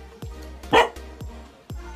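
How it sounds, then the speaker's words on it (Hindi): A dog barks in a series of sharp, fairly close woofs, four or five separate barks spaced irregularly over two seconds, one louder and longer than the rest, with no talking. "तो उनको भौंक रहा था ये"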